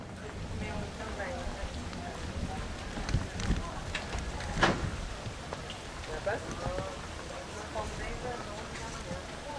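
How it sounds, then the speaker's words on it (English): Tropical rain falls steadily in a soft, dense patter with a few sharper drops, heard fairly quietly with faint voices underneath. "It was not easy because the tropical rain and there was water coming from everywhere."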